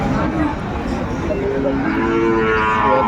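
A Sahiwal bull calf moos at a busy cattle market, its drawn-out calls rising over a constant crowd din with other livestock nearby.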